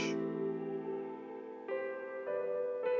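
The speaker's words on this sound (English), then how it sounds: "It's like adding some reverb." Soft, washed-out keyboard notes with a lingering reverb tail, a few new notes entering in slow succession; quiet and without talking.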